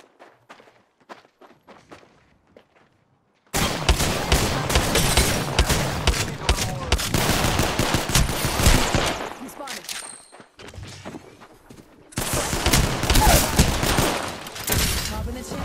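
Rapid bursts of video game gunfire from a battle royale match with Octane in pursuit, loud and dense, starting after a few quiet seconds of scattered footsteps, dropping briefly, then resuming in another heavy volley.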